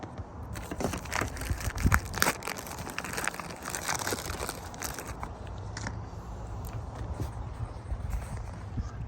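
Plastic packaging holding a small RV furnace part with a black switch is torn and crinkled open by hand, crackling and rustling in close, uneven bursts that settle into quieter handling.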